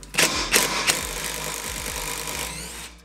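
Pneumatic impact gun zipping a shock mount bolt loose on a twin-turbo LS Fox Body, a few sharp hammering bursts and then a steady whirring rattle, loud and close in a garage.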